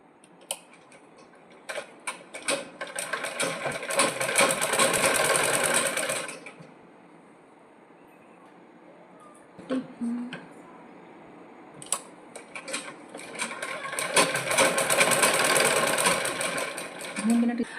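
A sewing machine runs stitches along the piping of a blouse in two long bursts, with a pause between and light handling clicks, close up.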